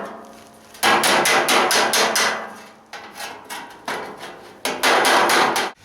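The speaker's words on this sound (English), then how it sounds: "I'm going to go ahead and clean that up a little bit with this dolly" A hammer beats rusty car sheet metal against a body dolly in fast, close, ringing bursts of blows, broken by short pauses between volleys.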